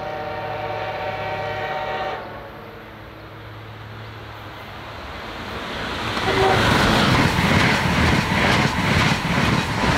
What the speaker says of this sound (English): the awesome filming location for high-speed trains on the Northeast Corridor